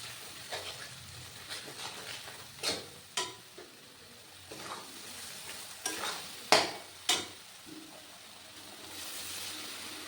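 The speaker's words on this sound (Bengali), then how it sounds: "এবার মশলাটা ভালো করে কষে নিতে হবে" Ground spice masala with cumin and coriander powder is stir-fried in a pan for a raw jackfruit curry, with a low sizzle under repeated sharp scraping strokes of a spoon against the pan, louder near the end.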